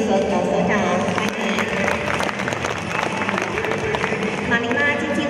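Applause welcoming guests at an exhibition opening in a museum hall, a steady wash of crowd clapping with a voice talking over it and occasional louder claps.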